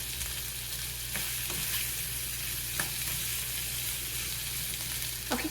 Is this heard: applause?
no